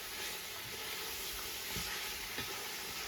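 Garlic sizzling in hot oil for white pulao gives a steady, close frying hiss with faint soft clicks of stirring, no talking.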